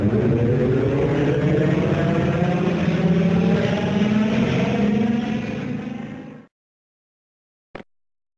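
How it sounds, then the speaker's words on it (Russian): A trolleybus hums steadily with a broad electric and road whir for about six seconds, then fades out, followed by a short sharp sound near the end. "Троллейбус."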